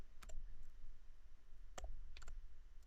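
Keys on a Chromebook keyboard click in short clusters as terminal commands are typed, a few quick taps then a pause, close and quiet over a faint low hum.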